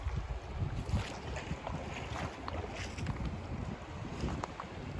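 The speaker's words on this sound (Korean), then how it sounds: "여기는 물이 맑고 이쪽은 거의 엄청 잔잔하게 흐르고 저쪽은 물살이 좀 셉니다." A clear, cold river runs past, gently on one side and with a stronger current on the other, giving a steady close rushing wash mixed with wind buffeting the microphone.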